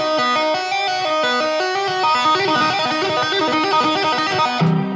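Electric guitar single finger tapping: a fast, steady run of bright tapped notes in an even repeating rhythm, loud and close, with no talk, ending in a brief low thump.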